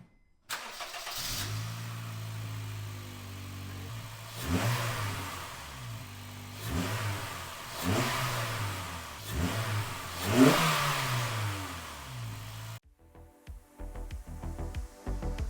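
Honda Fit with an HPS intake started and revved repeatedly, five or six rising and falling engine swells over a steady idle, loud and close, ending abruptly.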